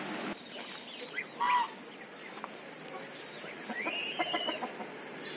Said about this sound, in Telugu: ఈ బాతులు అండి, ఖజానా బాతులు అంటారు